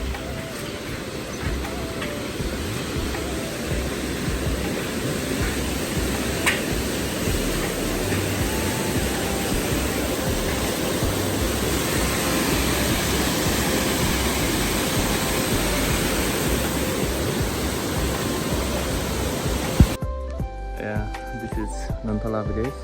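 A river rushes beneath a suspension bridge on the Everest base camp trek between Taksindu and Bupsa, a constant loud roar of water that drops away abruptly near the end.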